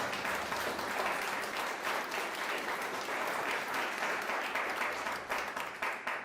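Church congregation gives a dense, loud, continuous round of applause for the King during a sermon, steady and full throughout with slight surges near the end.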